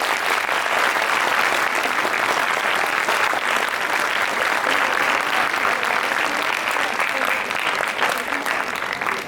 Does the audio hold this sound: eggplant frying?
no